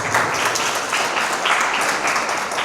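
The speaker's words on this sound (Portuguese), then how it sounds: "Você pode aplaudir Jesus?" A church congregation applauds in a steady, dense wash of clapping that continues evenly throughout, heard from within the crowd.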